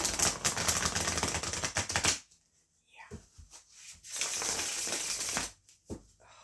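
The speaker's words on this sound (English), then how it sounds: "Should we shuffle? We can shuffle." Quick riffling and slapping of a Lo Scarabeo tarot deck being shuffled in two bursts, separated by a short quiet gap with a few soft taps, close and crisp.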